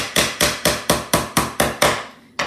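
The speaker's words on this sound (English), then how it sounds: "you can finish hammering that side" A hammer drives nails into a wooden box in eight sharp, evenly spaced blows, each ringing briefly before the next. The strikes are close and loud, with one more hit after a short pause at the end.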